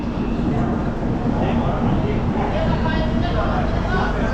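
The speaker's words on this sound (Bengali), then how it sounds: "আর আজকে আমাদের 22 নম্বর প্ল্যাটফর্ম থেকে ট্রেন ছাড়লো।" The Tamralipta Express rumbles and rattles steadily as it pulls away from platform 22, a loud continuous noise with a voice faintly heard over it.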